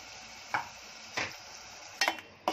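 Onion paste being stirred in a pan for a dried Bombay duck curry, with a steady low sizzle and several brief scraping stirs of the spoon, close by and fairly quiet.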